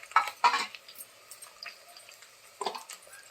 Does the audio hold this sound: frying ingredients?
yes